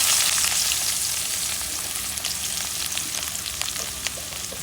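Onion dropped into hot oil seasoned with panch phoron sizzles loudly at first, then settles into a bright crackling fry with scattered pops, close and without speech.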